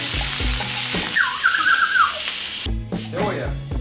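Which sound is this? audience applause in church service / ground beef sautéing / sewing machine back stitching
ground beef sautéing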